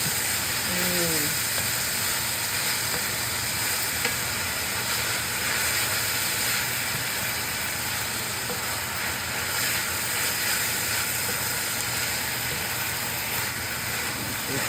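Collard greens cook in a hot pot, giving a constant broad hiss and sizzle that holds steady at moderate loudness throughout, with faint background hum.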